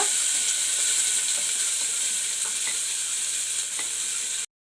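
Garlic and thinly sliced shallots sauté in a pan for a drumstick-leaf rice dish. A constant close sizzle carries faint stirring scrapes, then it cuts off abruptly.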